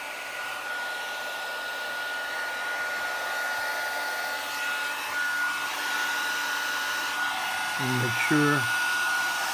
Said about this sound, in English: And we'll come in with our heat tool,